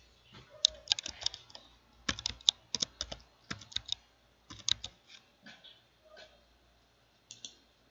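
Clicky bursts of keystrokes on a computer keyboard as an IP address is entered during a LAN setup, typed in quick clustered runs with short pauses, close and fairly quiet, tapering off into a few isolated taps.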